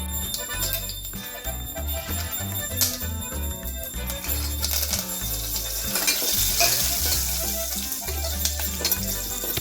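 Asafoetida and cumin frying slowly in hot oil for Kutchi khari bhaat, a steady close sizzle with occasional metallic clinks of a spoon against the pan.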